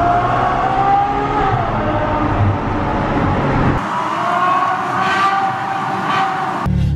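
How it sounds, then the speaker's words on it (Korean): A Ferrari 812 Superfast engine drones loudly and close by, its strong harmonic tone rising and falling, with abrupt cuts between segments. "오늘의 차량은 바로 페라리 812 슈퍼패스트."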